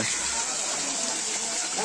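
Steady broadband rush of water from a waterfall at a Mahadev temple site in hilly countryside, continuous and fairly loud, with voices talking over it.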